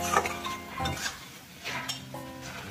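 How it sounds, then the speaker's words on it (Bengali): Masala spices fry in a pan and are stirred with a metal utensil, giving close clinks and scrapes over a low sizzle, without talking. "একটু মশলাটা ভেজে নেব।"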